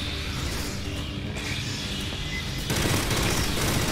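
Rapid automatic gunfire rattles continuously in the sci-fi shooter Aliens Fireteam Elite, dense and loud, growing heavier partway through as more weapons join.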